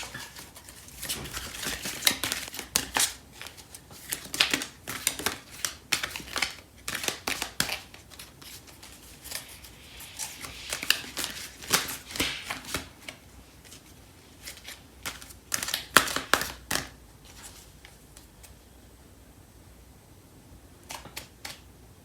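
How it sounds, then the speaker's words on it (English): Cards from a Fairy Tarot deck being shuffled and one pulled out, heard as a string of close, crisp riffling and flicking bursts with short pauses between them and no talking. "I'm going to pull out a card from the Fairy Tarot deck."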